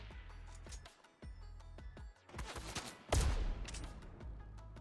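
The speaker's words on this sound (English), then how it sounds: "Alright, I heard gunshots." Rapid bursts of gunfire in a multiplayer shooter, a fusillade of sharp cracks clustered at the start and a louder close volley near the end, with no talk over them.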